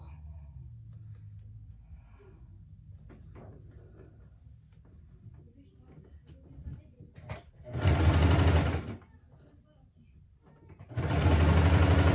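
A domestic sewing machine topstitches around the edge of a fabric envelope pouch, running in two loud close bursts of rapid whirring stitches separated by quieter handling and rustling of the fabric.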